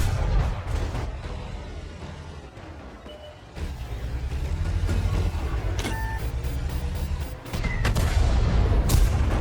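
Tank cannon fire in World of Tanks, set against a continuous rumble of game engine noise and ambient battle sound, with a few sharp broadband bursts standing out.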